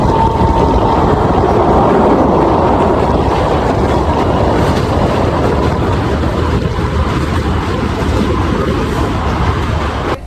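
A train running through the Kashmir valley, heard from inside as a continuous loud rumble with wind rush and rattling, steady for the whole stretch.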